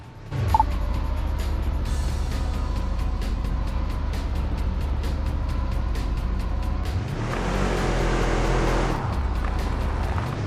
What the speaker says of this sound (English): Start by accelerating, then stop by braking in the marked zone.